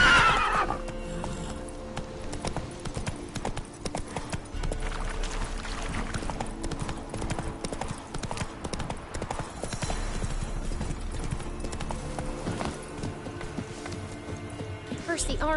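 Roach, Geralt's horse in The Witcher 3 on PS5, gallops with steady, close clip-clop hoofbeats and a whinny near the start, set against game music and ambience, with speech around it.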